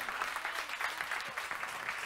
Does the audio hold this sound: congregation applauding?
yes